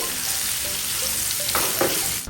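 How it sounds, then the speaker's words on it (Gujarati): Raw mango pieces sizzle and crackle in hot oil with turmeric while being stirred, a steady close frying hiss with a couple of louder scraping stirs near the end. "અહીંયા આપણે કેરીના ટુકડાને મિક્સ કરી લીધા છે"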